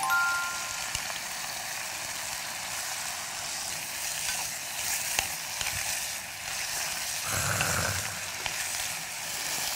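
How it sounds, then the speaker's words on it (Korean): Minced garlic stir-fries in a pan with a soft, steady sizzle, and a short scrape of stirring cuts in toward the end. "일단 다진 마늘 같이 넣고 볶을게요"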